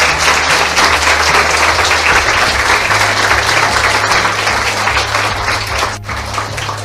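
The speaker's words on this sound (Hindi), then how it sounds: "आइए यीशु के लिए ताली बजाएंगे जोर से" A church congregation claps loudly and continuously in praise of Jesus, a dense, sustained burst of applause filling the room with a low musical drone underneath, easing slightly toward the end.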